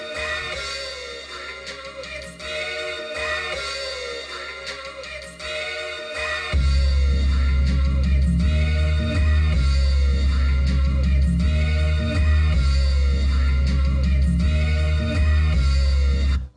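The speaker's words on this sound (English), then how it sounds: "So your main sample would sound like this" Main sample of a rap beat in FL Studio with the bass cut out, a full looping musical phrase; a heavier low-end layer kicks in partway through and the loop continues steadily to the end with no talk.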